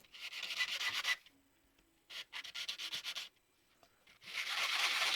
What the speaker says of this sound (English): I sanded it down like this to get it to seam together easier